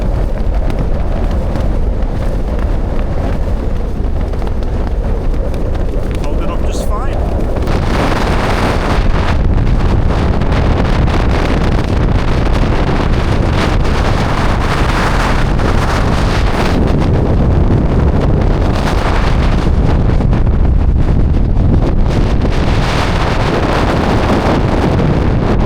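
Strong gusting wind of around 50 mph roaring over a Nortent Varde 1 tent, a loud continuous buffeting rush with flapping fabric and heavy microphone wind noise throughout, no voices.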